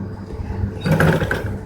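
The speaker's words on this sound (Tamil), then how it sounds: "இந்த இடத்துல ஒரு அமுக்கு தையல் போடுறேன்" A sewing machine runs briefly, stitching a blouse, a short buzzing rattle of needle strokes that swells in the middle of a low motor hum, close by.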